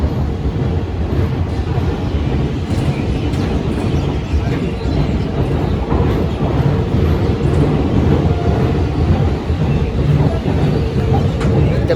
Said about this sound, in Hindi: Departure from Gwalior railway station.